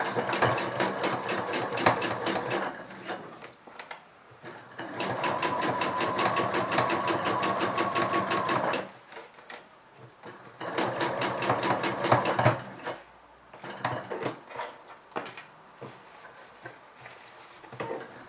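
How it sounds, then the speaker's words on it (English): A sewing machine top stitches along a jeans zipper in several bursts of rapid, rhythmic needle chatter, separated by short pauses, close and fairly quiet, with no talk. "use the top stitching thread in your regular presser foot and just top stitch it"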